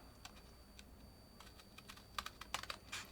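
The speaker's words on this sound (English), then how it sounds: "I think it's easiest to do both of these horizontal cuts first." Paper being cut along pencil lines while making a valentine craft with hanging hearts: faint, irregular crisp snips and clicks, sparse at first and bunching into a quicker cluster near the end, with no talking.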